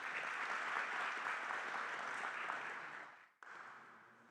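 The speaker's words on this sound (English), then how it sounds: "Round of applause." A crowd at a small-business public meeting on proposed flavored tobacco rules claps in a full, steady round that fades out near the end, followed by a brief thump and faint room sound.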